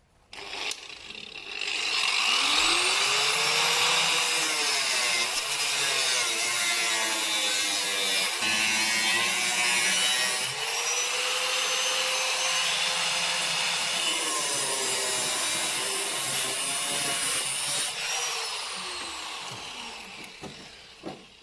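Rusted metal being cut out of the body of a Lexus IS200, a continuous loud grinding, sawing screech that runs for about twenty seconds with shifting pitch as the cut progresses, no talking.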